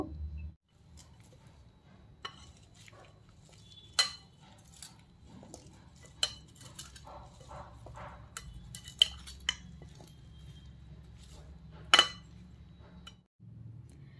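A spoon works green chillies and lemon together with turmeric and salt in a bowl, making scattered metallic clinks and scrapes at irregular intervals over a quiet background with no talking.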